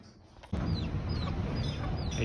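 Chicken clucking in a brief series of soft, close calls over a steady background hum, with no talk.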